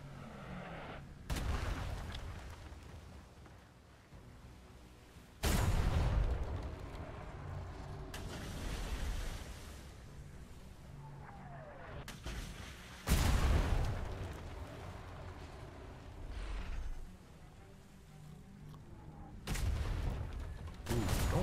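Ship cannons firing in the pirate sailing game Atlas, several heavy booms spaced a few seconds apart, each a loud blast with a rumbling tail over a steady background of sea and wind.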